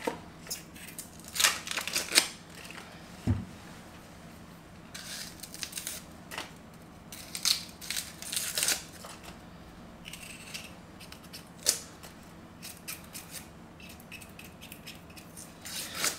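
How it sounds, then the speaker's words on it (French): An onion is peeled by hand after its root end is cut off, giving dry crackling and crisp papery tearing of the skin in scattered close bursts, with a knife tap among them. "on enlève la tête de l'oignon, on coupe au pied, comme ça, et on épluche"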